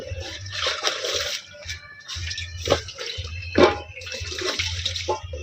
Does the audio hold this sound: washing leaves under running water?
yes